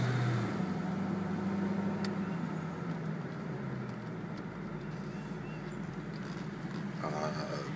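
2006 Ford Mustang convertible with a turbocharger being driven, a steady engine drone with light road rumble, with a brief pitch shift early on and someone talking over it.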